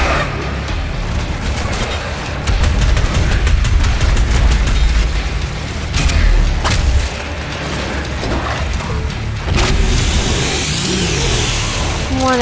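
Weapon fire in the shooter game Doom Eternal, a loud, dense roar of booming blasts and heavy rumbling impacts that swells in bursts over a continuous low-end barrage.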